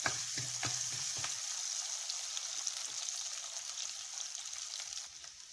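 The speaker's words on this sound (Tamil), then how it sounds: "வெங்காயம் கொஞ்சம் நல்லா வதங்கட்டும்." Shallots frying in a pan for a kuzhambu give a steady, close, hissing sizzle with a few crackling pops near the start, heard alone without any talk.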